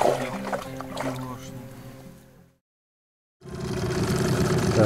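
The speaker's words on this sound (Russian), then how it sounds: "Так, ребят, мотор завели." A boat outboard motor hums steadily with voices nearby on a fishing trip near Astrakhan, cuts out into brief silence, then returns louder and rougher.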